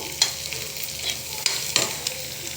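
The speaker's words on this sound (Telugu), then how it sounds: "చక్కగా వేగనిద్దాము" Egg biryani ingredients frying in oil in a pan, with a steady sizzle and several sharp scraping stirs of a spoon at irregular moments; no talking.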